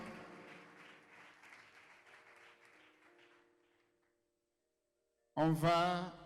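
Sudden burst of loud applause from a gathering honoring the delegates of Haut-Togo at a thanksgiving celebration night, erupting after fading music and a brief silence.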